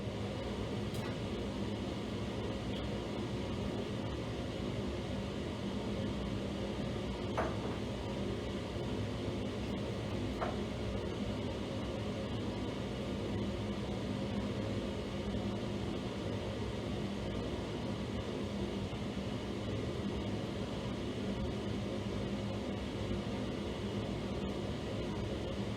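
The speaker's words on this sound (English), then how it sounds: "It gets a bit noisy with the fan" Fume cupboard extraction fan in a school chemistry lab, a steady broadband whooshing hum running continuously and fairly quietly throughout, with a couple of faint clicks.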